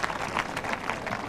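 Applause from the Wimbledon crowd at a 2000 third-round men's tennis match, a steady wash of clapping that lasts throughout and sounds moderately distant.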